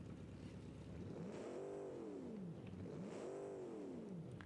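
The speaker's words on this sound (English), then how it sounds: "Listen to this engine. I actually need to quieten it, it's so loud." A car engine built in the Automation car-building game, rear-mounted, revs up and falls back twice, its pitch sweeping high then dropping in two smooth, loud arcs over a constant droning hum.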